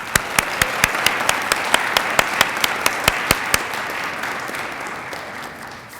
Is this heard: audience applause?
yes